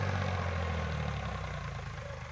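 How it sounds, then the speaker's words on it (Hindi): A tractor engine labours hard while pulling through deep mud, giving a steady, loud low-pitched drone with a heavy throbbing rumble that holds without a break from start to end. "पूरा दम मार रहा है भाई ट्रैक्टर,"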